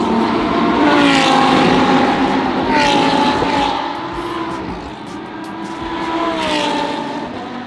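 Race cars lapping the Indianapolis Motor Speedway, engines whining past in overlapping waves that swell and fade at a middle distance, steady and fairly loud.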